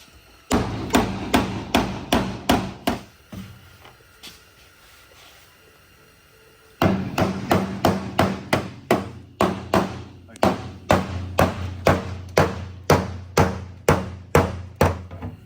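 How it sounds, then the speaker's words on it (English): Steady, rhythmic metal hammer blows ringing out close by as a dent is hammered out of a Ford car body, a run of strikes, a brief pause, then a longer even series of sharp clanging hits. "You see how I'm hammering it, and I'm hammering it down in motion towards the dent."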